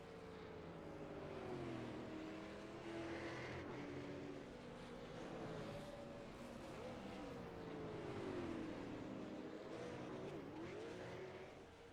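A Mustang race car engine in iRacing drones low and steady as it rolls out of the pits at South Boston, its pitch rising and falling gently, faint and distant with some talk over it.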